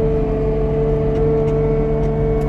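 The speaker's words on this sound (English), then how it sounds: "Then I just spin the machine around on the trailer." Log loader machine swinging around on a trailer while loading, with a steady, loud engine drone and constant whirring tones from the hydraulics, close up and unbroken.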